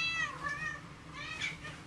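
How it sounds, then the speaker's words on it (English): A house cat meows twice close by, two drawn-out indoor cries separated by a short pause. "Sorry about my cat."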